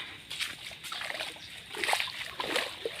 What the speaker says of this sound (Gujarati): અહીંયા જો એટલું એટલું પાણી જાય છે